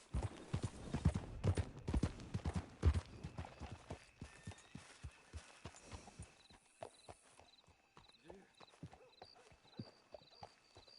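Hooves clip-clop in a steady walking rhythm as a horse moves along in Red Dead Redemption 2, loud and close at first, then settling into lighter, even steps while faint music tones play behind.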